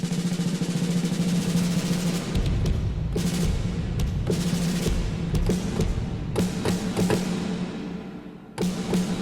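Dense, pounding drums from the Heavyocity Damage virtual rock drum kit hit hard with booming low thuds and crashing cymbal bursts, loud and continuous, with no voices.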